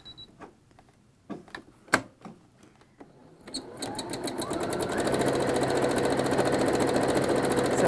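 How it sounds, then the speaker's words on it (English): A sewing machine with a darning foot runs for free-motion quilting, starting with a few scattered clicks and taps, then building into a fast, steady mechanical hum with rapid needle rattle, close and continuous. "darning foot on your machine, feed dogs down, and we're going to be actually herkying and jerking this quilt back and forth"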